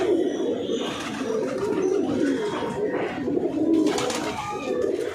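Andra Fulsira fancy pigeons at a home loft give soft repeated cooing calls close by, a steady murmuring series over faint background noise.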